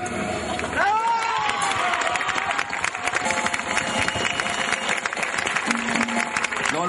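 A crowd claps and cheers at an outdoor piano concert during a Cuban music festival in Plaza Independencia. The dense, steady applause runs throughout, with music and voices mixed in.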